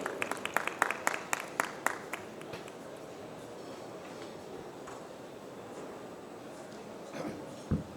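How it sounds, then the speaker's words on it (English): At a sustainability and packaging talk, a few distinct claps greet a speaker coming on stage, then trail off into quiet room noise. A faint voice follows. "Let's give a warm round of applause,"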